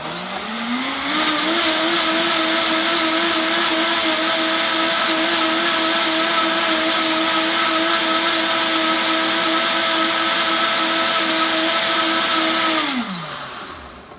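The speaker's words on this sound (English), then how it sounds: "Then we're going to turn the blender on." A countertop blender whirs loudly for about twelve seconds as it blends water and other ingredients for a plant-based bowl, spinning up quickly, holding a steady high roar, then winding down.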